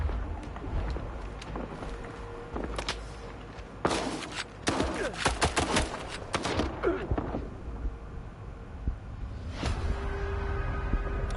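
Enemy shotgun blasts in S.T.A.L.K.E.R. 2 on PS5, several heavy booming shots clustered in the middle with thuds and rumbling, over a windy low background and a later distant report.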